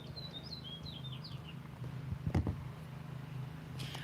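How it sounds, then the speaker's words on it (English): Birds chirping outdoors in a residential neighborhood, quick high tweets in the first couple of seconds over a steady low hum of distant lawn mowers, with a brief thump and rustle nearby midway. "And you can hear the birds."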